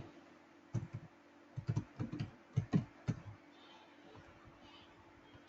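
Computer keyboard typing SQL Server T-SQL trigger code, a few short bursts of quiet clicking keystrokes with pauses between, close and faint over a low steady hum, no talking.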